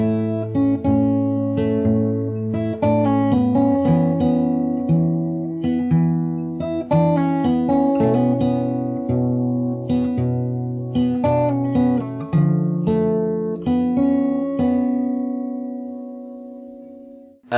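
Fingerstyle guitar plays the verse of a song, plucked notes and chords ringing in a steady, close, moderately loud pattern before fading at the end, with no voices.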